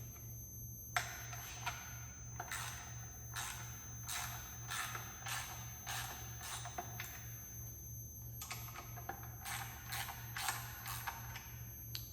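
Ratchet turning bolts into a 1998 Ferrari 355 F1 gearbox, two runs of quick, evenly spaced clicking pawl strokes, close and quiet over a low steady hum.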